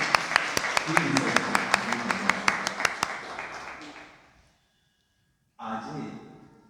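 An audience at a Gujarati public talk claps in a sharp, rhythmic burst that fades out into silence. Afterward a voice begins speaking.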